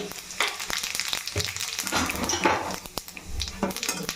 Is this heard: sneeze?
no